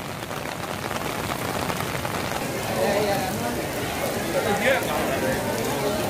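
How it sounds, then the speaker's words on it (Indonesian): Rain falls outdoors at KLCC in Kuala Lumpur as a steady hiss of drops on hard surfaces, with a crowd murmuring faintly underneath. "Di sini lagi gerimis-gerimis."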